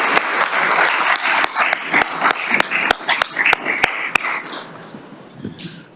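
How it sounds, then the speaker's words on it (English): Applause from an audience, a steady wash of clapping with sharp individual claps standing out, tapering off toward the end. "maybe if we could give Ben a round of applause for his contributions here."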